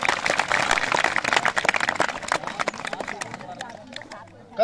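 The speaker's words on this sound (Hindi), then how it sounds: "तालियां बजाओ उनके लिए एक बार।" Students applaud at a Red Cross awareness event at an inter college in Uttarkashi, dense clapping that is strong at first and then thins out and fades, with voices in the crowd.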